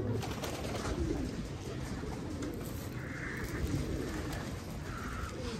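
A pigeon coos in low soft repeated calls amid steady outdoor rumble, the cooing faint and intermittent across the stretch.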